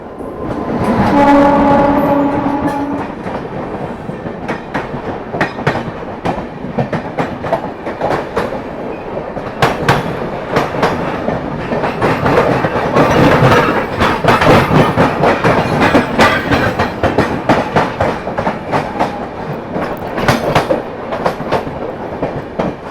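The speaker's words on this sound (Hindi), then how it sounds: "यहाँ पर आती हुई न्यू दिल्ली भुवनेश्वर तेजस राजधानी एक्सप्रेस।" New Delhi–Bhubaneswar Tejas Rajdhani Express arriving, opening with a loud horn blast, then a steady rumble and rhythmic clickety-clack of wheels over rail joints as the carriages roll past close by.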